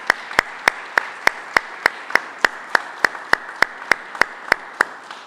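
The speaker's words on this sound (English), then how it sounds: "please join me in a round of applause to thank them" Sharp, evenly spaced claps ring out at a press conference for a St. Louis outreach center opening, a regular rhythm of about three claps per second, crisp and close, with no talking.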